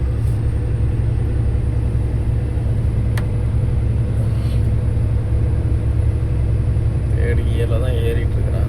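A heavy vehicle climbs a hill near Thoppur in third gear, its engine giving a continuous, loud low rumble from inside the cab, with a brief click and faint talk over the drone.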